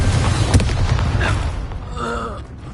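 Explosion of a Confringo spell in the video game Hogwarts Legacy, a loud rumbling boom with a sharp pop early on, then a fading roar and a ringing tail.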